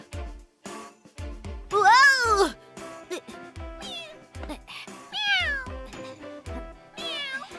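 Repeated cat meows, several rising and falling calls spread across the stretch, loud and close, with short gaps and a voice speaking between and under them.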